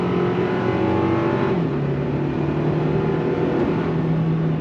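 A 2025 Toyota Tacoma SR5 with a turbocharged four-cylinder engine and eight-speed automatic accelerates under throttle, its engine droning loud and steady from inside the cab, with the pitch dropping briefly at a smooth upshift before climbing again.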